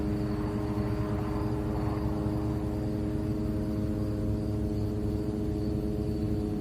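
A drone flying overhead near the Gaza–Israel border gives off a steady, droning buzz with layered engine tones that holds an even loudness throughout, with no voices over it.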